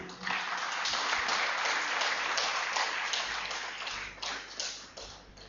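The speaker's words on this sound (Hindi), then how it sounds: "मेरी गुजारिश है कि आप जोरदार तालियों से उनका स्वागत करें।" An audience at a Hindi health lecture claps to welcome a speaker to the stage: a sustained wash of many hands clapping, fairly distant and even, thinning into a few scattered bursts toward the end.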